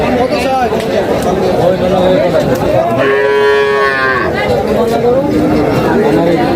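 A cow gives one loud, drawn-out moo at a busy traditional Tuesday cattle, buffalo and goat market in Kapasia, rising over constant crowd chatter as people talk nearby.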